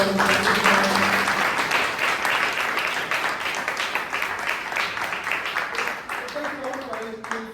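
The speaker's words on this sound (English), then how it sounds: "give a round of applause for" Applause from the audience at a Toastmasters club meeting in Bangalore, a dense, sustained round of clapping that fades slightly toward the end, with a voice speaking faintly underneath.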